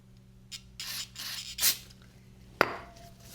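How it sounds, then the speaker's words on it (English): A can of carb cleaner hisses in several short bursts into a disassembled vintage Keihin CR carburetor on a workbench, close and crisp, followed by a sharp metallic clack of parts. "So we'll spray a little carb cleaner."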